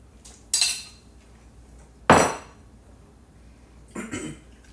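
Utensils on a plate while eating New York strip steak: a few sharp, separate clinks and scrapes spaced out over several seconds, near and fairly loud against a quiet room.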